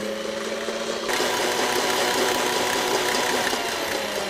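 Electric mixer beating egg yolks and sugar for a walnut torte, a steady motor whir that steps up from low to a louder, busier high speed about a second in, then runs continuously, close and alone.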